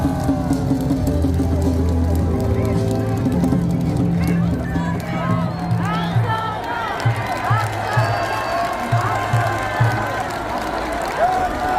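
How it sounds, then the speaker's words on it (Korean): Large outdoor rally crowd at a station plaza claps and cheers for an arriving speaker, a dense sustained roar of applause and shouts with a steady low rhythmic beat running beneath it throughout. "여러분 큰 박수로 맞아주십시오"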